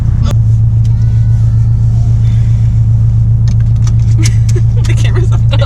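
Subaru STI with a manual gearbox idling in first gear, a steady low engine rumble running throughout, with light rattles and clicks toward the end.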